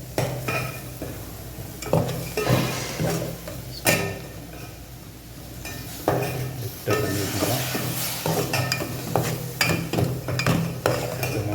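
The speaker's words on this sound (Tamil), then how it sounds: "3 நிமிஷம் எண்ணெயில் கொஞ்சம் வதங்கட்டும்." Curry powder masala frying in oil in a pan for a drumstick thokku, stirred with repeated scraping strokes over a steady close sizzle, with occasional utensil knocks.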